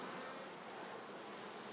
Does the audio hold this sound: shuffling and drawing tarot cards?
no